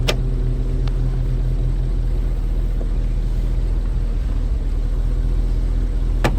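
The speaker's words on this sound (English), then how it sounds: "So a nice easy start. Running idling nice and smoothly." Classic car engine idling smoothly under an open hood, a steady low hum with even rumble, a couple of sharp clicks at the start and end, no talking.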